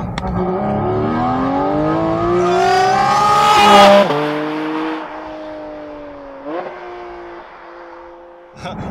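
A Porsche Cayman GT4 RS engine revs up loudly, pitch climbing through the gears, then drops back and settles into a steady drone with a brief blip.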